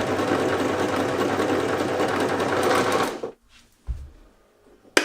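A pedal-driven sewing machine winds thread onto its bobbin, running loud and steady with a fast mechanical chatter for about three seconds before stopping, followed by a couple of faint clicks.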